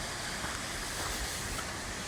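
Water pouring from a waterfall at Rotary Park on Casper Mountain, Wyoming, a constant broadband rush heard close and loud with no other sounds.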